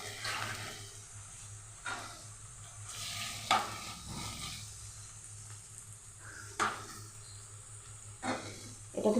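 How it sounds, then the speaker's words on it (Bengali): Prawns frying over high flame in mustard oil in a home kitchen pan, a steady close sizzle with intermittent stirring scrapes and a few sharp clinks. "এবার আমি চিংড়ি মাছগুলো দিয়ে দেবো"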